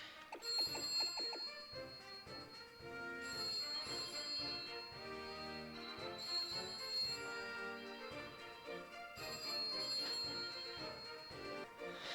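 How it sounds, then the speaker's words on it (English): A telephone rings in repeated bursts about every three seconds, faint and distant, with a bright bell-like tone over a busy musical background. "phone rang"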